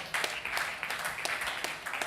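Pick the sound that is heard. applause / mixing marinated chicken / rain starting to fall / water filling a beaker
applause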